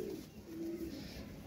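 Pigeons coo softly in a short low call, fairly near, with light background noise and no talk.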